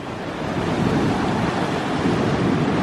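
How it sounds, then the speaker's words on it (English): Ocean surf breaks continuously on the shore under strong afternoon wind, a dense, loud wash of roaring water and gusty rumble with no pause. "Uh-oh, waves coming."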